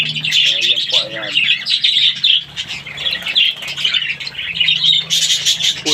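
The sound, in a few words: parakeets chirping and squawking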